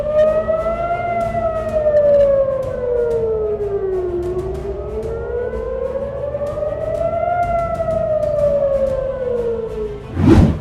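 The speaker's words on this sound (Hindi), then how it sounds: "वहां और अन्य क्षेत्रों में हवाई हमले के सायरन बजने लगे थे" An air raid siren wails over Jerusalem, rising and falling in long, slow sweeps with a steady droning tone, heard from a distance and sustained without a break, ending in a brief loud thump.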